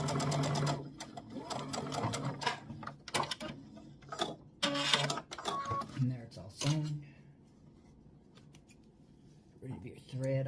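A sewing machine stitching across the bottom of a Halloween haunted house quilt block, a close rapid rattling whir in short bursts with clicks and pauses, quiet stretches between runs.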